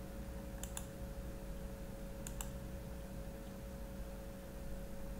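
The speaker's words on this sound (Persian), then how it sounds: "بذارید من از نو دوباره تایپش کنم، اسپیس میزنم" Two quick pairs of key clicks on a computer keyboard during a ten-finger typing lesson, sharp and close, separated by a pause, over a faint steady hum with no talking.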